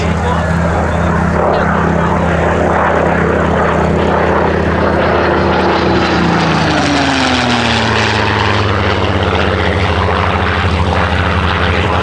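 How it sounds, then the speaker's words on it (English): A Seafire propeller fighter plane's engine drones loudly throughout, its pitch sliding downward midway as it passes, with a voice talking faintly underneath. "The Seafire was nonetheless an exceptionally important and still very capable naval fighting aeroplane."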